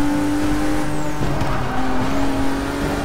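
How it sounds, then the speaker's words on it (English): Car drifting in a racing video game set around a 2017 Ford GT, with a steady, high tire squeal over a continuous engine drone, close and loud throughout. "I'm gonna drift right into the finish line"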